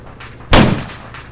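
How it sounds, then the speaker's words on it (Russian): A single heavy gunshot boom in the military shooter ARMA 3, sharp and loud with a short rumbling tail, set against quieter background noise. "Слышу стрельбу. Это я стреляю по нему."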